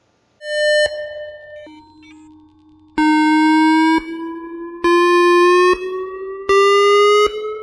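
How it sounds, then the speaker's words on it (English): Steady sine tones in a virtual reality distance aid, their pitch shifting with proximity to the source: a held tone, a drop to a low tone, then several repeated beeps whose pitch climbs gradually, loud and clean with no voices. "The sound distance assistance tool aids in perceiving distance by modulating sound pitch based on the user's proximity to the source."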